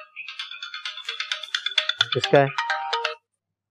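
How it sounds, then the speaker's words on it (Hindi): A phone ringtone plays a quick, bright run of melodic electronic tones for about three seconds, loud and close, signalling an incoming call, with a brief spoken question over it before it stops. "फोन आ रहा है, देखो"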